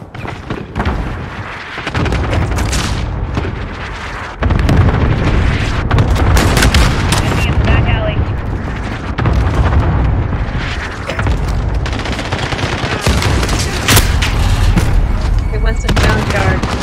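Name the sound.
cluster strike explosions in Call of Duty video game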